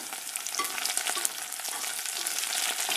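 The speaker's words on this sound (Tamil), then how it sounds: "இப்போ நான் வெட்டி வச்சுருக்க கத்திரிக்காவையும் முருங்கைக்காவையும் எல்லாம் சேர்க்குறேன். இதையும் சேர்த்து நல்லா வதக்குங்க." Chopped brinjal and drumsticks sauté in a pan for a dried-fish kuzhambu, giving a steady, close crackling sizzle with no voices.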